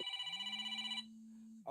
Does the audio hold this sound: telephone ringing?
yes